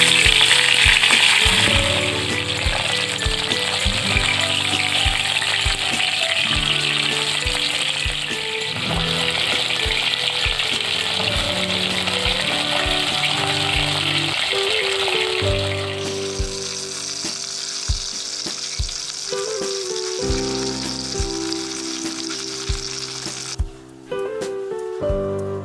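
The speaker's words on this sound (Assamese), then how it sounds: "এয়া মই মাছ ভাজি দিছোঁ।" Kawai fish (climbing perch) frying in hot oil in a home kitchen, a steady loud sizzle with crackling bursts and occasional clinks of a utensil, continuing without talk.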